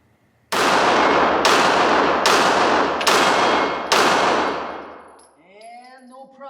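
Five loud, close pistol shots from a Sig Sauer P365 XL 9mm, fired at a steady pace roughly a second apart, each crack ringing off before the next, with no talk over them.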